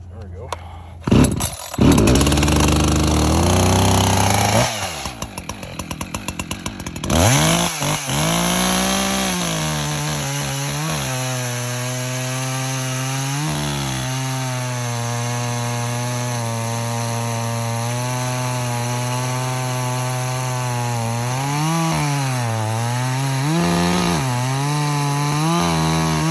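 An Echo CS20P professional-grade chainsaw with a longer bar is pulled over and revved, then settles into a loud, sustained cut through wood, its engine pitch rising and dipping as it bites.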